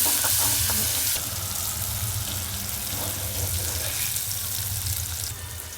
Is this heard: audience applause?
no